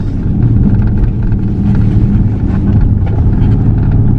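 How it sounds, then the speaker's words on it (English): A 2013 Dodge Charger SRT8 exhaust rumbles steadily and loudly while driving, a deep continuous drone with slight pulsing, heard close through an open window with no talk. "I roll the window down, guys, so you can hear the exhaust."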